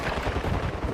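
Gunfire in a video game, a dense, continuous rattle of shots that blur together, loud and close throughout the second.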